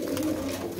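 A pigeon gives a short, low, throaty coo close by, a single soft burst of cooing.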